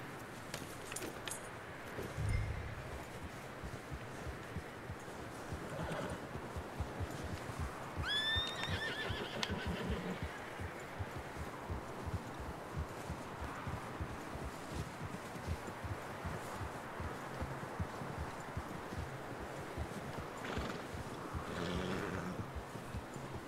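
A horse in the Red Dead Redemption 2 video game, ridden outdoors: steady clip-clop of hooves throughout, a few snorts and a whinny along the way, with faint wind and rustling behind.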